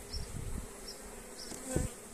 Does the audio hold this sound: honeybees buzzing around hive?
yes